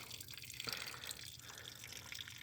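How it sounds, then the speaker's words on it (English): Antifreeze drains from the engine of a 1999 Chevy Malibu during a temperature sensor replacement, trickling and dripping faintly in a quiet, close space. "that antifreeze just went everywhere"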